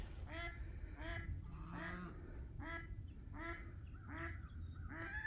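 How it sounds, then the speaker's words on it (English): A duck quacks repeatedly, about eight loud, evenly spaced quacks close by over a steady outdoor background, with no talking. "that duck sure is noisy today."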